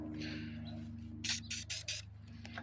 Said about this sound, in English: Get the oil sprayed.